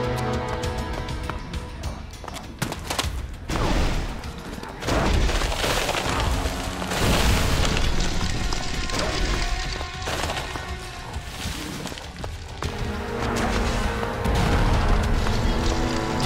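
Grenades go off in the video game ELEX: a string of heavy booms and crashing bursts with splintering debris, dense and loud, recurring over about sixteen seconds amid ongoing combat noise.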